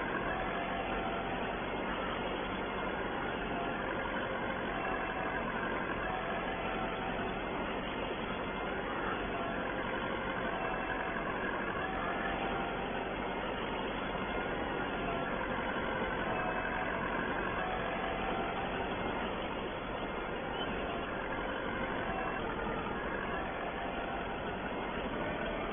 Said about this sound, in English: And get this tractor on the